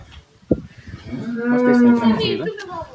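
A Holstein Friesian cow gives a single long, deep moo close by, rising and holding before trailing off.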